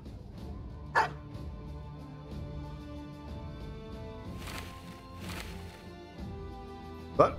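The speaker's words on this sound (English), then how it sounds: "Ooh, a kennel. Let's pick up a dog while we can" Dogs at a kennel in the video game Battle Brothers, a few sharp, sudden barks standing out over a soft ambient game background, one near the start and another at the end.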